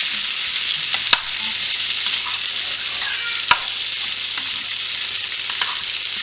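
Pre-cooked potatoes brown in butter in a frying pan, giving a close, even crackling sizzle with soft stirring scrapes and two sharp clicks of a utensil on the pan, without speech.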